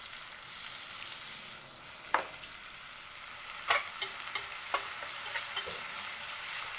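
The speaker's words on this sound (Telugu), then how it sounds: "జీలకర్ర వేగిన తర్వాత సన్నగా తరిగిన ఉల్లిపాయ ముక్కలు వేసి ఎర్రగా వేయించుకోవాలి" Chopped onions fry in oil with cumin for a rajma masala, giving a steady close sizzle that grows louder partway through, broken by a few sharp scrapes of stirring.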